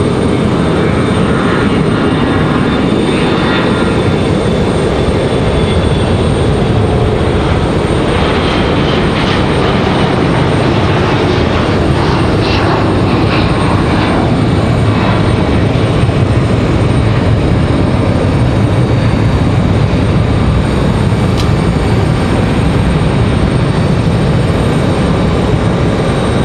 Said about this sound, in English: No, this is a CRJ.